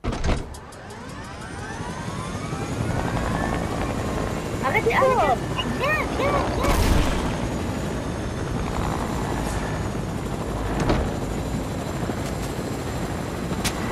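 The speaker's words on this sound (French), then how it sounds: "Ah, y'a un hélico." A helicopter in a video game drones steadily throughout, a continuous mid-distance rotor hum, while players talk over it.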